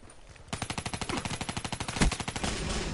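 A Spectre submachine gun fires rapidly in Black Ops 3, a fast, even stream of close, punchy shots in one sustained burst that starts after a brief quiet moment and runs on to the end.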